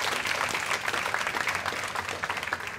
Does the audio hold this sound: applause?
yes